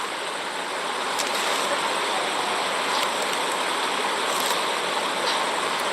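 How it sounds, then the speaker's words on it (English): Running water rushes like a waterfall in the Duskwood game, a steady, dense hiss of splashing that holds at an even, fairly loud level throughout. "It sounds like water crashing, like a waterfall."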